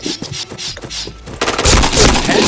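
Rapid video game gunfire in bursts, sharp repeated shots that swell into a dense, loud, continuous volley over the second half.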